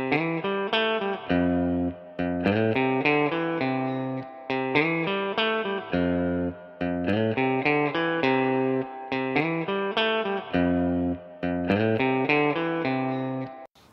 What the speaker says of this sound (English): it's the same spring reverb that I'm using